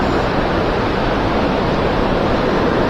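River rapids rushing nearby, near a salmon ladder: a dense, loud, unbroken roar of water that stays constant from start to finish with no voices.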